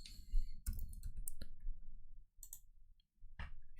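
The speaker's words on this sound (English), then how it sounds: "I'm gonna type in gradient" Keys clicking on a computer keyboard in a quiet room, a short cluster of sharp taps, close and faint, with brief gaps of near silence.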